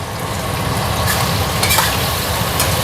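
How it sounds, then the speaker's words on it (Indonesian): Chilies, shallots and garlic fry together in a covered pan with a loud, continuous sizzle and crackle, broken by a few brighter spits of hot oil. "Nah, ini aku goreng aja ya."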